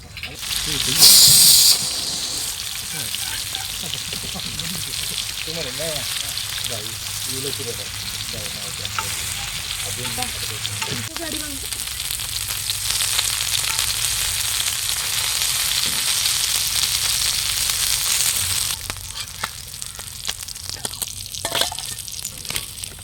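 Fish frying in hot oil, a continuous close, loud sizzle and hiss that runs throughout with faint clatter near the end.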